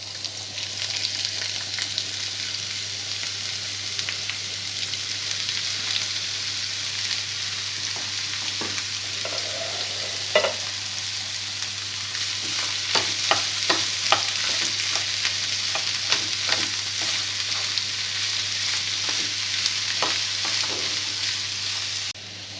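Onion and ivy gourd (tindora) pieces frying in a pan, a steady loud sizzle over a low hum, with a burst of quick stirring scrapes in the second half.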